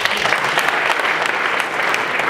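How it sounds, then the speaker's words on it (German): Audience applause at a village summer festival, with local council members and parliament delegates present: a dense, steady wash of many hands clapping, loud and sustained throughout with no pauses. "jetzt darf ich mal klatschen"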